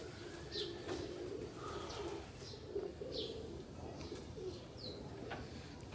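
Pigeons kept by a breeder coo softly in a low murmuring rumble, with faint chirps and light rustling over a noisy background, quiet and steady with no clear talking.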